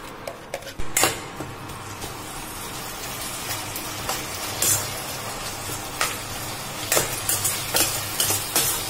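Onions and a spice paste sizzle in a pan for egg biryani while a spoon stirs them, with repeated clattering scrapes and clinks against the pot over a constant frying hiss.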